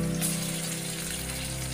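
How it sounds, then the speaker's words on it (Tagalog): Sliced onion sizzles in oil inside a rice cooker, a steady, dense frying hiss that stays close and even throughout with no talking. "I-fried muna natin yung laso na sibuyas."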